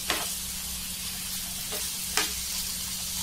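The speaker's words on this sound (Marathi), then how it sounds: "व्यवस्थित अधूनमधून पाच मिनिट असं पलटी मारत राहायचंय" Paneer tikka pieces sizzling in a hot pan as they are flipped, a constant close crackle with two sharp bursts where the pieces are turned.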